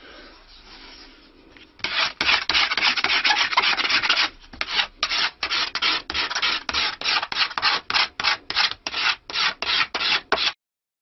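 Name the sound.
scraper tapering wooden instrument back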